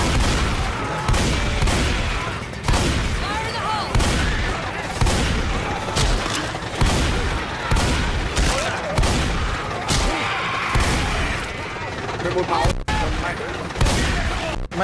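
Gunfire in the video game Left 4 Dead 2 comes as rapid, repeated loud bursts through the whole stretch, with players talking over it.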